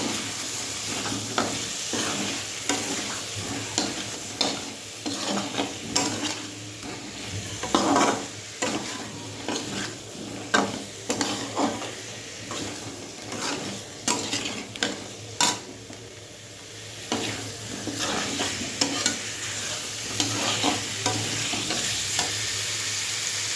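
Potatoes and pointed gourd with spices fry in a pan while a spatula stirs and scrapes, producing repeated scraping knocks over a constant sizzle, close and without speech.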